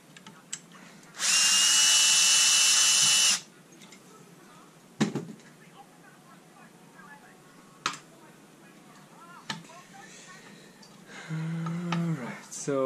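A power drill whirs loudly for about two seconds, backing screws out of the cooler grill on an ADJ Inno Pro lighting fixture, followed by clicks, handling knocks and a second shorter whir near the end.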